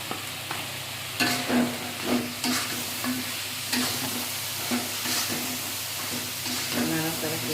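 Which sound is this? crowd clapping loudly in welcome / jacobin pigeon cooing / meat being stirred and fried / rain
meat being stirred and fried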